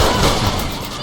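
Rapid gunfire bursts from the video game Saints Row: The Third, loud and dense, a near continuous volley of shots with no talk over it.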